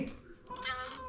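A house cat gives one short, faint meow near the microphone, a brief tonal cry that rises and then fades out.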